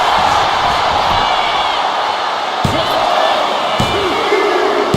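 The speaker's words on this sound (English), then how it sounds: "Across the top rope. The elbow drop." A loud thud as a wrestler's elbow drop from the top rope hits the ring, with another impact a second later, both under a roaring arena crowd during a live WWE SmackDown match.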